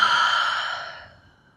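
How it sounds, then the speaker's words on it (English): A single deep exhale during a yoga hamstring stretch: one long, close breath out that is loud at first and fades away over about a second and a half, with no other sound. "and exhale"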